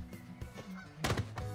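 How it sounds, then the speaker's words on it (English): A flock of geese honk repeatedly in quick, overlapping calls, moderately near and fairly loud, with no talking. "Do you hear all these geese?"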